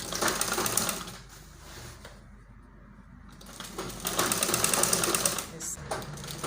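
Sewing machine stitching a baby girl's collar onto fabric, running in loud, rapid bursts nearby with a brief pause midway, while a person talks over the stitching.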